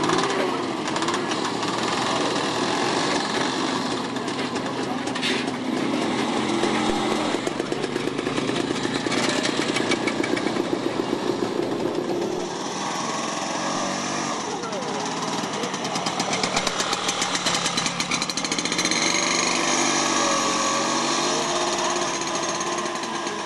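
A Berlin motor scooter's small engine runs continuously at a scooter meet in Ludwigsfelde, with a rattling, high-revving buzz, its pitch rising and falling as it moves about nearby.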